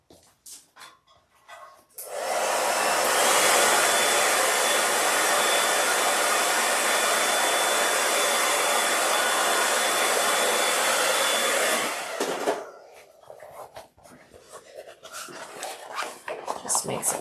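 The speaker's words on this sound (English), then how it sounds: "I'm gonna grab my hairdryer. I'm just going to like open it up like this, blow some heat in there" Hair dryer blowing hot air into the opening of a sewn Penelope backpack, a loud steady roar that switches on after a couple of seconds, runs about ten seconds, then cuts off, with quiet rustling before and after.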